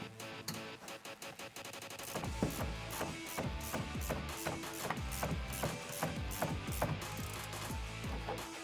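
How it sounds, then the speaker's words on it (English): An 18mm ratcheting wrench turning a bolt while fitting a bolt-on suspension lift kit with N3 shocks on a Toyota Tundra, a close series of fast clicking ratchet strokes in repeated bursts, with no voices. "we can go ahead and grab our 18mm wrench and give that a couple turns"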